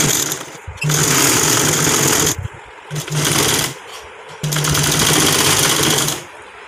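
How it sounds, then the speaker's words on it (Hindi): A sewing machine stitches a palazzo (plazo) trouser seam from one leg to the other. It runs in three loud, steady whirring bursts with short stops between them and sounds close. "अब हमने एक पैर से दूसरे पैर तक सिलाई करनी है।"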